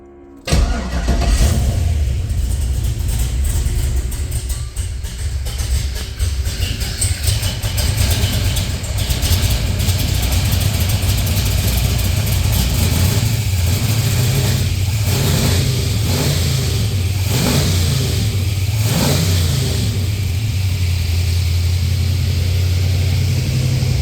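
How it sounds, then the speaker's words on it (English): An LS-swapped Chevrolet Nova engine fires up and settles into a loud, steady idle close by, with several sharp revs blipping through the exhaust near the end. "Let's see how it starts."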